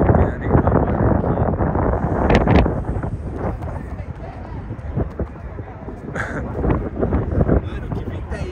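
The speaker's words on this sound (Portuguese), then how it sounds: "Mano, que vento é esse, cara?" Strong gusty wind buffeting the microphone while a giant kite flies from a tall São Paulo building rooftop: loud continuous rumbling roar rising and falling in gusts, with someone speaking over it.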